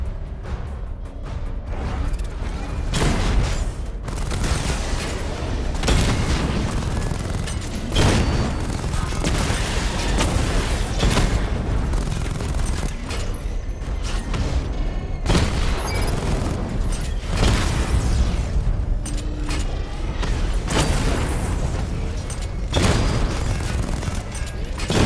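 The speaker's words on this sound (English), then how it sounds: "Charge up missile barrage to level 2 and destroy 4 active targets to complete diagnostic test." Dense, continuous barrage of explosions and booms from a mech suit's missile barrage in Batman: Arkham Knight, loud and sustained with rapid overlapping blasts and mechanical clatter throughout.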